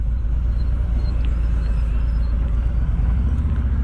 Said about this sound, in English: Today we're out riding my 2018 Ultra Glide